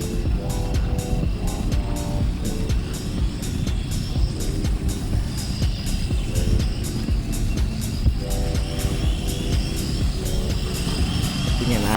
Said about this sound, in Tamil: எப்படியோ ஒரு வழியாக ட்ரோன் பறக்குது